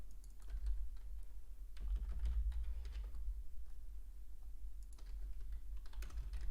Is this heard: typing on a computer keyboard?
yes